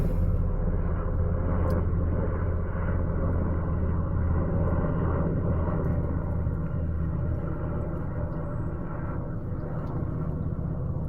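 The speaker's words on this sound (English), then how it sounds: "There's just a plane going over right now, so it might be a touch noisy." An airplane passes overhead, a steady low rumbling drone that holds at moderate level throughout without rising or fading much, heard indoors and far off.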